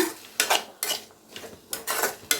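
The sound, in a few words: stirring potato fry in a pan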